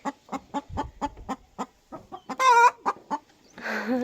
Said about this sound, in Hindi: हमारी मुर्गियाँ यहाँ पे तेज़ तेज़ आवाज़ कर रही हैं